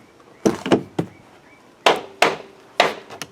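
The door catch on a Chevy Cruze clicks as the door opens, a series of sharp knocking clicks in two close clusters, near and distinct with no talk.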